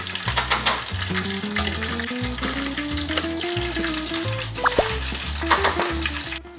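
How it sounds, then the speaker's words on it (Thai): Kaffir lime leaves fry in hot oil with a busy, close sizzle and light bubbling, stirred as they crisp, while a steady music bed plays underneath. "ตอนนี้จะเห็นว่าฟองน้อยลงนะคะแล้วก็เริ่มเดือดเบาๆแล้วใบก็เริ่มแห้งกรอบแกรบกรอบแกรบ"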